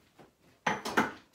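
A metal muffin pan is handled in a kitchen, giving a few quiet clanks and clinks, with two or three brief metallic knocks close together.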